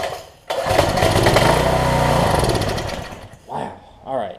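A Coleman pressure washer's small engine, just revived after oil in the exhaust, fires up and runs loud and steady with a heavy low rumble for several seconds, then cuts out, followed by a couple of short bursts.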